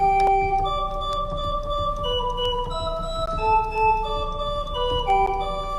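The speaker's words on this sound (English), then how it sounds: "a fugue is a piece of music that begins with a melody or a subject" A fugue subject: a single melodic line played on a pipe organ, notes moving stepwise at a moderate pace with no voices.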